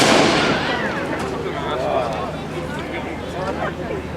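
A cannon fire effect booms on the Disneyland Pirates of the Caribbean ride, a loud burst at the start fading into rumbling echoes as a recorded pirate voice talks over it.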